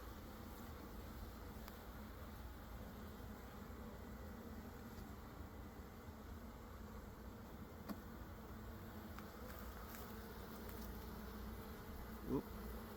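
Honeybees hum steadily around an open hive during an inspection, a continuous close buzzing with individual bees passing near, no speech.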